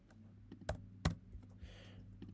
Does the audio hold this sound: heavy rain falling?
no